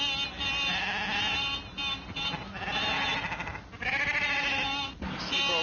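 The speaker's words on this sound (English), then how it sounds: "Sheep all over the road, damn silly things." Flock of sheep crowding a road, bleating in overlapping waves, several animals calling at once in long, wavering cries, fairly close and continuous with brief gaps.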